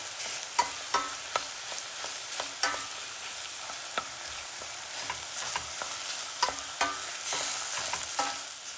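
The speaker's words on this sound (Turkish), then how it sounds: "Biberlerle de biraz daha kavurmaya devam ediyorum." Peppers sautéing with tomato paste in a pan for a vegetable couscous pilaf, a soft continuous sizzle under repeated spoon scrapes and taps at an uneven rhythm, close by with no talking.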